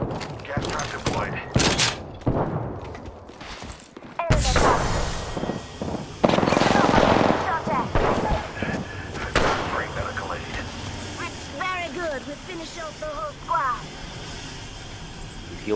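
Gunfire in Apex Legends, bursts of close rapid shots and heavy impacts, then scattered fire and game effects, with voices talking over the action.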